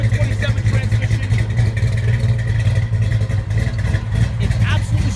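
A 1970 Dodge Charger 500 with a rebuilt 440 V8 and rebuilt 727 transmission runs close by, a steady low rumbling idle throughout, with a voice speaking over it.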